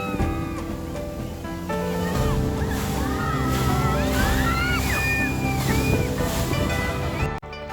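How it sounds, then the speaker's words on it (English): The large open-air water feature at Expo 2020 Dubai gives off a continuous rushing, splashing wash of falling water, with faint tonal sounds layered over it. "This is the water feature and it was one of our favorite attractions at Expo 2020 Dubai"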